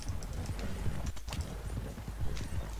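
Warhorse hooves clip-clop in Red Dead Redemption Online, a steady run of close, loud hoofbeats with a brief gap near the middle.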